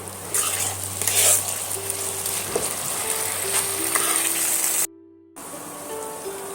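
Steady sizzling of chicken frying in a hot pan, loud and close, with a brief dropout near the end before the sizzle resumes.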